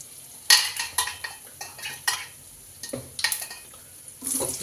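Green chilies and onions fry in oil with mustard seeds and curry leaves for a spicy peas chaat, a soft sizzle broken by repeated clattering stirs of a metal spoon in the pan.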